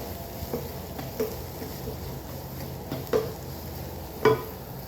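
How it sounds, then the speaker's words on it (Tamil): Chicken is mixed by hand with chili, pepper and turmeric powder: soft, quiet stirring and squelching with a few light knocks against the bowl, spaced at intervals over a low background hum. "இதை நல்லா மிக்ஸ் பண்ணி விட்டுக்கலாம்."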